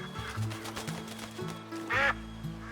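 Ducks in the Red Dead Redemption video game give a run of repeated quacks, fairly faint, with one louder, sharper quack near the end.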